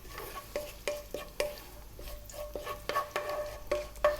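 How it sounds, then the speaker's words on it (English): Cumin seeds and green cardamom sizzle in hot oil over medium-high heat in the first step of an Indian mutton curry, a soft steady crackle broken by several distinct stirring scrapes of a spoon against the pan. "I'm going to drop in those cumin seeds and the green cardamom"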